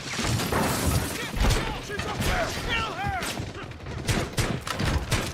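Rapid gunfire from a Rainbow Six tactical shooter match, with dense overlapping shots and impacts running continuously, loud and close, while a voice talks faintly underneath.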